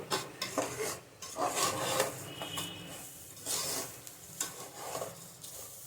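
Rice grains being dry-fried and stirred in a pan for a simple Bengali pulao, giving raspy scraping and rustling strokes in irregular bursts, close and fairly quiet, with no talk.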